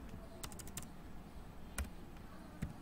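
Keystrokes on a computer keyboard while writing ordered-list HTML code: a quick cluster of taps early on, then a few isolated clicks, faint over steady room hiss.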